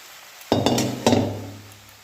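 Roasted semolina poured into fried vegetables in a pan for vegetarian suji upma, landing as two distinct thumping, clinking impacts about half a second apart, followed by a softer scraping rustle that fades.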